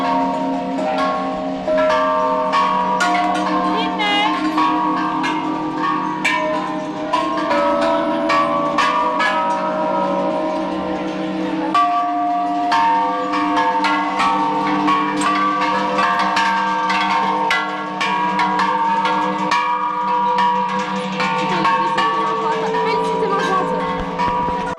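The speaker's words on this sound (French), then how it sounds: "Tu passes une bonne après-midi à sonner les cloches." Many bells rung at a temple in Thailand, overlapping metallic clangs and ringing tones in a continuous dense clamor, with voices speaking faintly beneath.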